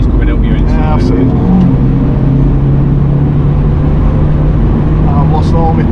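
A car engine roars loudly and continuously at speed around the Nürburgring, its drone rising and falling with gear changes while people talk over it.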